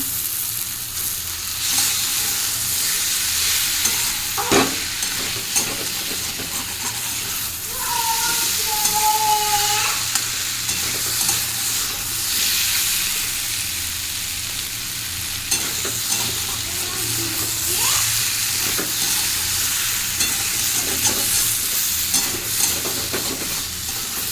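Ingredients being sautéed in a pan for khichuri, with steady sizzling and frying under repeated stirring and spatula scrapes, a few brief clinks and faint background sounds.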